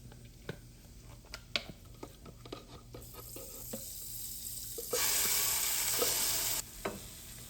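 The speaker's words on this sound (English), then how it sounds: "Now add the chutney in there, or the blended paste." Blended garlic chutney paste hits a hot pan and bursts into a loud, steady sizzle partway through, after scattered clinks and light stirring scrapes, then eases back down near the end.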